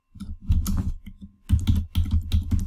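Quick bursts of computer keyboard typing while entering WordPress theme code, clicking in short irregular runs separated by brief pauses, close and clear with no talk.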